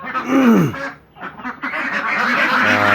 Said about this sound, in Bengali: এগুলো হচ্ছে খাকি গ্যাম্বেল হাঁস সবগুলি ডিমের জন্য করা হইতেছে